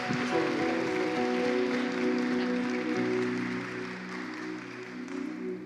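A church congregation applauds a pastor as she is welcomed, broad steady clapping under sustained music with held organ-like tones throughout.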